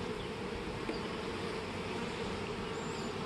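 Honey bees buzz steadily as a nuc is installed into a Langstroth hive with foundationless frames, a continuous, dense close-up hum at moderate level with no talking.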